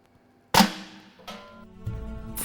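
A cork shoots out of a sparkling wine bottle during disgorging, a single sharp close pop followed by a softer fizzing rush and a few fainter knocks.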